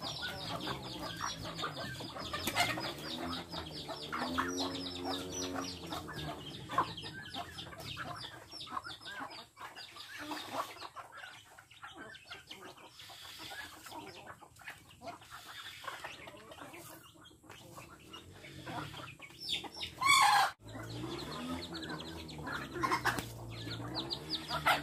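Chickens cluck steadily on a rural farm as they are fed grain scattered on bare ground, a dense, busy flock chorus close by with overlapping calls and occasional sharper squawks.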